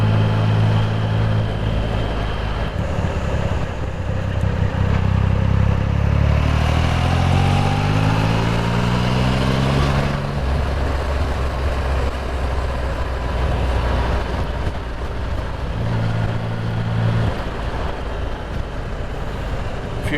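Motorcycles passing on a countryside road, engines rising and falling in pitch as they go by, loud and close over constant wind roar, with another rider going past near the end.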